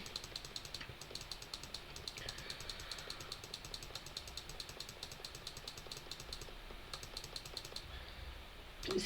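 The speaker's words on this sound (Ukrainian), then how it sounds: "Зараз будемо дуже довго клікати." Rapid, repeated clicking while playing a survival computer game, an even stream of small taps close up and fairly quiet, with a low rumbling hum in the background.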